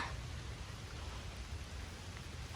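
Rain falls steadily in a forest during mushroom hunting, a continuous even hiss with no talking.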